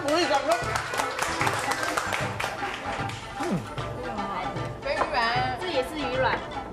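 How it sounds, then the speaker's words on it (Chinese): Audience applause and clapping for the chef on a Taiwanese TV variety food show, brief bursts of clapping mixed under loud, overlapping talk and laughter from the hosts. "来掌声鼓励，掌声。"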